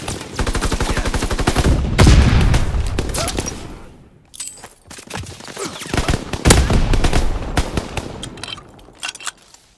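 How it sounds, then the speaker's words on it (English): Heavy gunfire and mortar rounds in Call of Duty: WWII, with dense rapid bursts and booming impacts filling the scene, a brief lull midway, then renewed loud volleys and explosions. "Sending mortar rounds, zone and sweep!"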